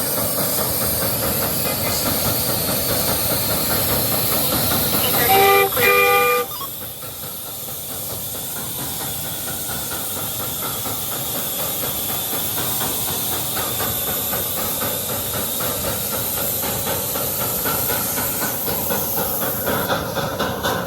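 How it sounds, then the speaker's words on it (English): The Hiawatha steam locomotive pulls a full passenger train out of the station with loud, continuous hissing steam and the rolling chuff of the engine. A short whistle-like tone sounds early on before the steady steam noise carries on. "this is Hiawatha leaving the station with a full train"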